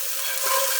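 Diced shallots stirred in a hot pan, giving a steady close sizzle that brightens briefly partway through, with no voices.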